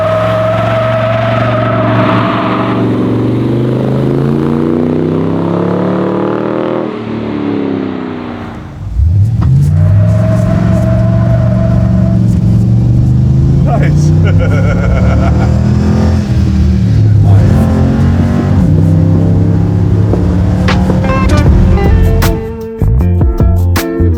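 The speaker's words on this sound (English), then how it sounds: "You want to do a burnout?" Custom ICON-built HEMI-powered Jeep Cherokee 4x4 doing a burnout: the V8 idles, then revs hard and loud with rising and falling engine pitch, followed by repeated aggressive blips and tire-squealing roar up close.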